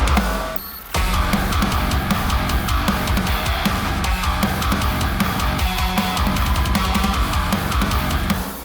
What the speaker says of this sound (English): I just added some reverb to this, and then we shifted it up with Alter Boy